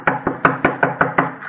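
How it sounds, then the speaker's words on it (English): Eight sharp knocks on a flimsy shack door of paper, paste and wire, evenly spaced and close, as a radio drama sound effect, with no voices. "I knocked politely."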